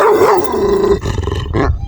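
A brave Kangal puppy on a Turkish flock farm barks and growls loudly at close range, a sustained rough bark followed by shorter yips.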